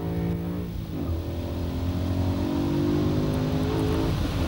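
A brand-new BMW M3 with a 4-litre V8 accelerates hard, its engine note rising steadily and loud throughout, close by with no talking.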